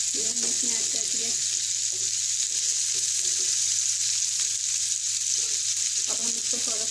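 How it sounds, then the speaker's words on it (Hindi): Mixed vegetables with capsicum frying in a pan give off a loud, steady sizzle, with faint stirring sounds running under it. "अब हम इसको थोड़ा सा 5 मिनट के लिए फ्राई करते हैं।"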